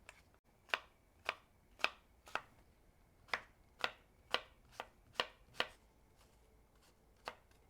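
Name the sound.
knife chopping a sweet opal gold apple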